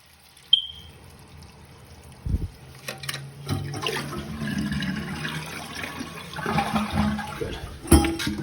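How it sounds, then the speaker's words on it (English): Household toilet flushing in a second-floor bathroom during a plumbing repair, with a sharp clunk before the rush of water. Refill gurgling and trickling continue, and a few knocks land near the end. "be able to flush the toilet"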